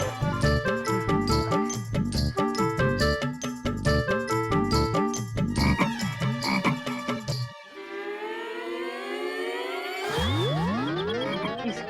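Rhythmic croaking pulses repeat rapidly with tinkly tonal layers, then give way to swooping electronic warbles; a bright, synthetic-sounding frog chorus.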